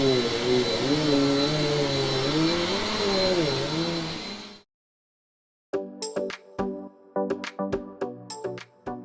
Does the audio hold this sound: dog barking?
no